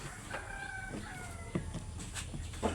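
Chickens cluck and squawk nearby in short, repeated calls over a noisy outdoor background.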